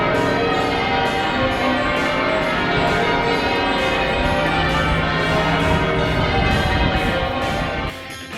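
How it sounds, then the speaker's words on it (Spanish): Bells of St Paul's Cathedral in London pealing in their daily half-hour ring, loud overlapping strikes in a steady rhythmic sequence that drop away abruptly near the end. "Las campanas de la Catedral de St. Paul's suenan todos los días durante media hora a las 16:30 de esta manera."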